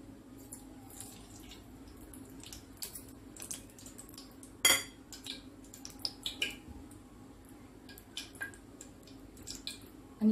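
Cooking oil poured into a preheated pot while making egg fritters (andyachi bhaji), giving faint drips and soft sizzles with a few sharp metallic clinks of utensils, close by and without talk.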